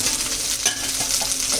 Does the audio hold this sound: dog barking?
no